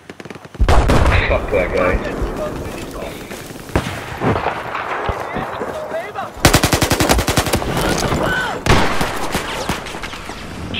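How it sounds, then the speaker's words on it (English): Rapid bursts of gunfire from an enemy gunner who has left a tank in a squad-based video game, loud, fast rattling volleys separated by short pauses, with someone briefly speaking over it. "the gunner just got out of the tank. He's shooting at you."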